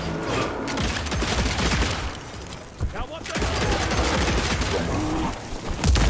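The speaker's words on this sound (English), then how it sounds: "Shooting it does seem to work." Dense, continuous volleys of gunfire from the Evil West video game, loud and sustained throughout with brief dips and renewed bursts, a voice faintly mixed in among the shots.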